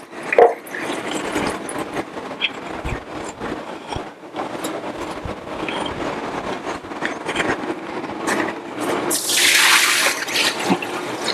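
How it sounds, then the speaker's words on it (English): Water runs steadily from a laboratory tap into a sink drain, a continuous splashing rush with a few clatters and knocks and a brief louder hiss near the end. "keep that water running."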